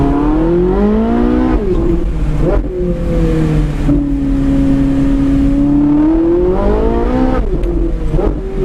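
An exotic sports car accelerating hard on a race track, its loud engine note climbing in pitch through several gears with brief drops at each shift, heard close from inside the car.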